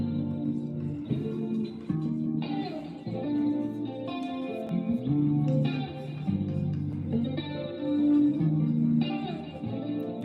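Clean electric guitar played through a Boss ME-80 multi-effects unit, with lush chorus and reverb coloring sustained chords and melodic lines that continue steadily for several seconds, close and full, with no talking.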